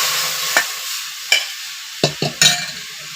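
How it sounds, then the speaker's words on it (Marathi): Fried masala with onion, curry leaves and garlic is stirred in a pan. Four or five sharp, close scrapes and clanks of the spoon against the pan sound over a soft sizzle. "चांगलं ढवळून घ्यायचं"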